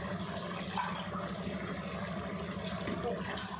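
Water pours steadily into a pot with a continuous splashing, gurgling stream, fairly close, without speech.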